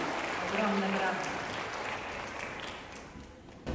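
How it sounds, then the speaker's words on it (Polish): Audience at a school event applauding, a soft, even wash of clapping that slowly fades before a voice returns. "Ogromne brawa."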